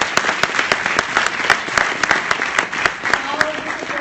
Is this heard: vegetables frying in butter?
no